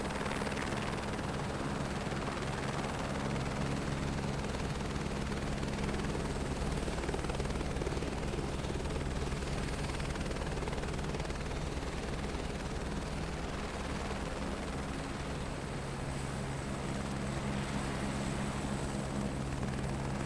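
Helicopter in Microsoft Flight Simulator 2024, parked at a remote pad on tropical Bora Bora, with a steady, loud rotor and engine drone holding unbroken throughout, no voices.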